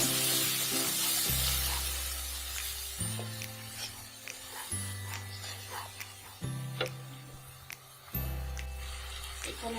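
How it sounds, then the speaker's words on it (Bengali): Spiced chicken and vegetable roll filling is stirred in a pan, with a soft sizzle and irregular scraping and clacking of a spoon against the metal. The strokes come close and steady beneath a droning background hum. "এখন আমি সব উপকরণটি ভালো করে নেড়ে দেব।"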